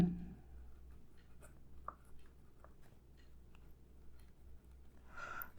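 A pen scratches out a math equation by hand on paper, with faint intermittent strokes and small ticks in a quiet room and a soft breath near the end.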